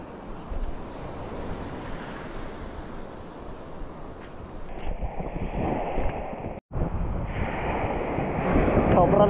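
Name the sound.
strong wind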